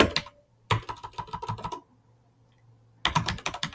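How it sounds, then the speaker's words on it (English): Quick bursts of keystrokes on a computer keyboard come in two clusters separated by a pause, close and clear, with no voices. "let me just type out a note"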